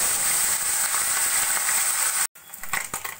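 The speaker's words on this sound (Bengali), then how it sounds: "কড়াইতে তেল গরম করে মাছগুলোকে আমি প্রথমে ভেজে নেব।" Morola fish frying in hot oil in a kadai, a steady loud sizzle that cuts out briefly, then returns as softer crackling with a few scattered pops.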